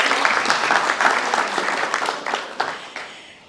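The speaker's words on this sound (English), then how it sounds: "Applaud, I love it." An audience at a guide dog graduation ceremony applauds, dense clapping that starts full and gradually thins out, with a few last claps trailing away.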